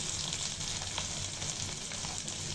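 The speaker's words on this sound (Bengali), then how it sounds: "হলুদ, শুকনো মরিচের গুঁড়া দিয়ে ভালো করে কষিয়ে নিব।" Steady, dense sizzle of a turmeric and dry chili spice paste frying for koi fish bhuna, continuous and close with no talk over it.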